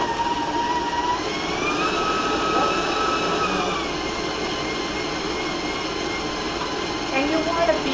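An electric mixer beats chocolate applesauce cupcake batter at a raised speed, a steady whirring hum with shifting whine, close and continuous throughout without any talk.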